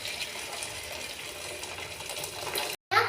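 Hot water from boiled cauliflower pours through a strainer in a home kitchen, making a continuous gushing, splashing rush that stays steady and close before cutting off abruptly near the end.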